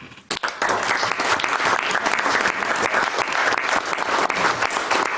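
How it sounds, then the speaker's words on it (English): An audience at an Ogden City council meeting breaks into a round of applause, sustained loud clapping from a crowd that starts abruptly and carries on evenly for several seconds. "can we do a round of applause for Dennis for that?"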